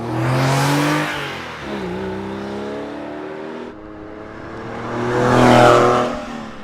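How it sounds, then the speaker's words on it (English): Porsche 996 GT3 flat-six exhaust beside a Pfister sports exhaust, two loud revving runs one after the other, each rising and falling in pitch with no talk. "Here's a side-by-side comparison of an early 996 GT3 and the Pfister sports exhaust."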